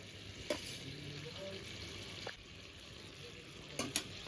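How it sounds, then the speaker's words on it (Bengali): Pieces of rohu fish go into a pot of boiling curry gravy, giving a steady low sizzle and bubbling with a few soft splashes and clatters. "এবার এই মাছের পিসগুলো দিয়ে দেব।"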